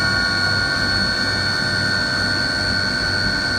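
A CNC machine spindle spinning up to 6,000 RPM, a constant steady whine with a high tonal component over a broadband mechanical hum, close and unchanging, with no talk.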